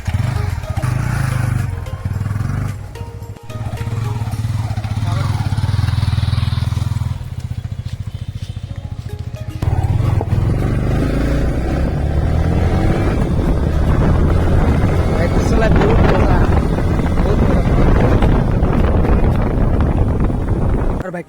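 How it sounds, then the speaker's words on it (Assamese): A Yamaha R15 V3 BS4 ABS motorcycle being ridden, its engine a steady low drone beneath heavy wind buffeting that swells louder and rougher partway through. "এতিয়া মই বাইকটো অলপ ৰাইড কৰিম"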